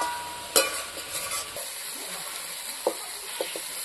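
Powdered spice mixed with water goes into a moong dal curry with tomato and pumpkin, giving a soft steady sizzle under faint stirring clicks and a few scrapes of the spoon.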